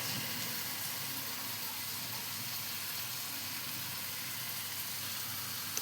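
Lote fish (Bombay duck) are dropped one by one into a hot pan on a gas stove, raising a steady, even sizzle of frying oil that holds at low volume throughout, with no talking.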